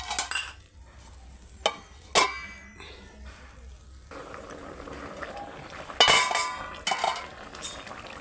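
A metal lid goes onto a pot of bhola fish curry with potato and eggplant, giving a few sharp, separate clinks and clanks against a quiet kitchen background.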